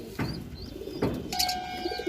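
Pigeons coo softly nearby in two low, rolling calls, followed by faint chirps from young birds, with no talk.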